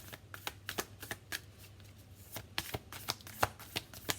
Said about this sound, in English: I haven't shuffled this one enough yet.